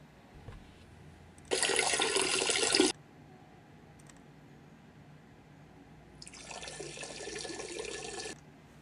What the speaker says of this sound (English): I mean, just water running, I guess it's the same thing,